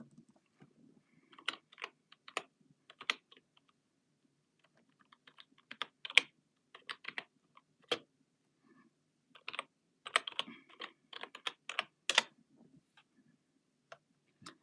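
Light typing on a computer keyboard, irregular bursts of close, crisp keystrokes separated by short pauses, quiet and with no talking.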